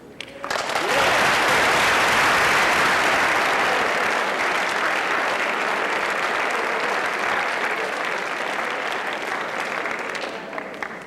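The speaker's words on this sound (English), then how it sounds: "I'd like you right now to give yourselves a big round of applause" Dense, loud applause from an audience at a high school academic awards ceremony, a sustained wash of clapping that holds for about eleven seconds and tapers slightly toward the end.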